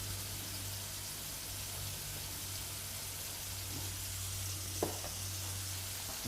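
Garlic butter sizzling on hot flatbreads, a steady broadband hiss over a low constant hum, with a couple of brief clicks near the end.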